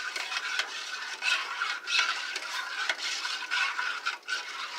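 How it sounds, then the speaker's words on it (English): A spoon or whisk scraping and swirling through milk, sugar and flour in a pot for creamed peas, with continuous close rhythmic rasping strokes and no talking. "Mixing a little milk, sugar, a little bit of flour."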